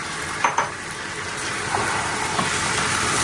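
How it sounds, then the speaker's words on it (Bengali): Food with green chillies and fresh black pepper sizzles steadily in a hot pan as it is stirred, with a couple of sharp utensil clinks early on and no talking. "এখন সুন্দর করে নাড়াচাড়া করবে।"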